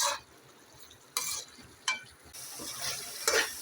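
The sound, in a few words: keema frying on high flame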